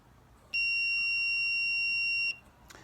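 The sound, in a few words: meter continuity beep testing Chevy S-10 backup light switch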